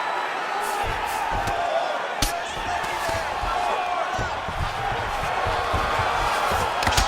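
An arena crowd roars and cheers in EA Sports UFC 5 as fighters return to their feet after a long grappling exchange, a dense, steady wall of noise with occasional sharp thumps and whoops, under continuous commentary.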